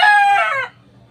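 A gamefowl rooster kept for cockfighting lets out one loud, close crow lasting under a second, then stops, with no talk around it.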